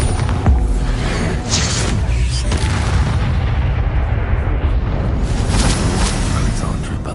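A Bombarda blast spell in Hogwarts Legacy sets off loud, booming explosions with rumbling low-end and sharp bursts layered over ongoing game noise.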